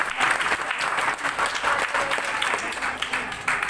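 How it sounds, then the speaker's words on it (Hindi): An audience at a talk breaks into brief, lively applause, dense clapping throughout with faint crowd murmur. "लास्ट 4 मिनट ताली बजाइए एक बार।"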